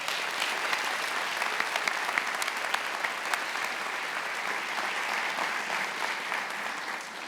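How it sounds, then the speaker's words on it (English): An audience at a university investiture ceremony applauding, dense sustained clapping from a large crowd at an even level throughout. "let's just give one more round of applause to all of our distinguished guests today"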